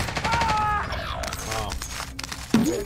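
Bursts of machine gun fire in the Warzone video game crackle in rapid strings beneath game music and sound effects, with a voice speaking briefly over them.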